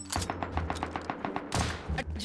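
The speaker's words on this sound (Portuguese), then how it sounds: "Vocês sabem de onde estão tomando tiro." Rapid gunfire in the survival video game Rust, a close, loud burst of about a dozen evenly spaced shots followed by a heavier cluster of shots.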